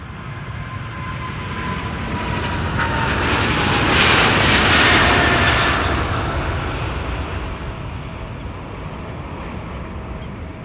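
A KLM airliner, flight 751 bound for Quito, taking off from Amsterdam Schiphol: a jet roar that swells to a loud peak near the middle as it passes close, then gradually fades, alone with no talk.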